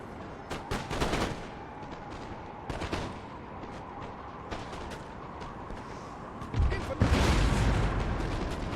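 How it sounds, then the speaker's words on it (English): Nine-pounder cannons fire canister shot in a Napoleon: Total War battle, a few sharp booming reports scattered over a busy battlefield din, with a heavier rumbling blast near the end. "Artillery! 9-pounder ready. Okay, let's get that canister going."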